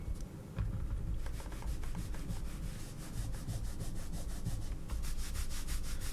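Computer mouse rubbing across Zowie fabric mousepad, a continuous scratchy sliding friction with repeated back-and-forth strokes, close and fairly quiet, with no voices.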